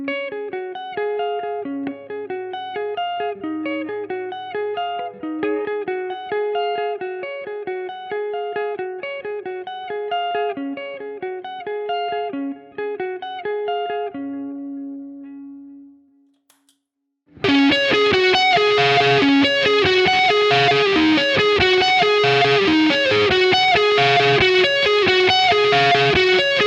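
Electric guitar through a Vein-Tap Angel of Rock distortion pedal, played in a riff: a cleaner picked phrase fades out, a short pause follows, then a loud, saturated distorted riff kicks in and continues steadily.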